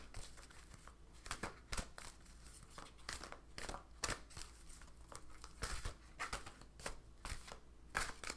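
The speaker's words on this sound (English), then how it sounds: "I can't shuffle these with my cards very well." A Gaia Oracle card deck is shuffled by hand at close range, producing faint irregular riffling, crinkling and tapping bursts in an otherwise quiet room.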